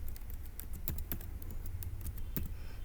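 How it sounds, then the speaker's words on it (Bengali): A single word being typed on a computer keyboard, a short run of light, close key clicks at an irregular pace over a low background hum. "ইনফোগ্রাফিক লিখে দেবো"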